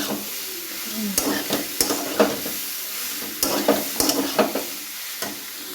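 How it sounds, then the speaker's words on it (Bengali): Soybean chunks fry in a pan with a constant sizzle, broken by frequent scraping stirs and metallic knocks of a spoon against the pan, loud and close. "সয়াবিনগুলো দিয়ে নাড়াচাড়া করতে হবে, ভালো করে কষিয়ে নিতে হবে।"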